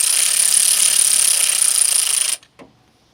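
Loosening cam bearing cap bolts with a 10mm wrench on a 2002 Nissan Sentra 1.8L engine, a steady loud mechanical whir that cuts off abruptly, followed by a single faint metallic click.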